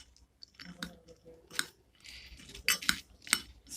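Ingredients being mixed in a bowl for a quick dish, giving a series of light clinks, scrapes and crunchy stirring strokes at close range, with several sharper knocks toward the end.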